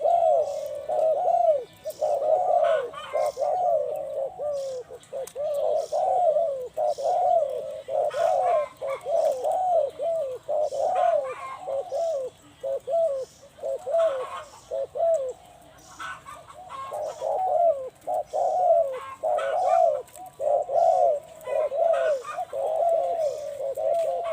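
Deep, rhythmic cooing of a large dove repeats over and over in close, steady mid-pitched phrases, with a faint chirp and light background noise between calls.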